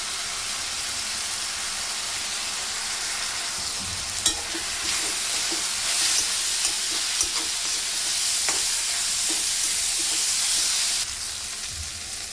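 Mixed vegetables stir-frying in oil in a pan for vegetable fried rice, with dark soy sauce and red chili sauce: a steady, close sizzle with scraping stir strokes and small clatters throughout, no talking.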